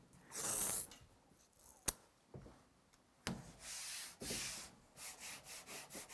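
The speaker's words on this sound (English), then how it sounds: "I'm going to put a couple of lines of tape all the way across here" Masking tape is pulled off a roll and pressed down across a bath in several ripping, rasping strips, with a sharp snap partway, close and fairly quiet.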